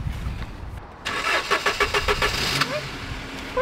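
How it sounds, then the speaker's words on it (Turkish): A car engine cranks with a rapid stuttering rhythm of starter pulses for over a second, then catches and settles toward an idle, close and fairly loud. "Araba açmış."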